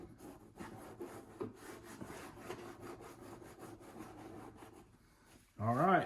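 Mat compound being massaged by hand into a gold cube, a soft steady rhythmic rubbing close by, with a louder, sharper sound breaking in during the final half second.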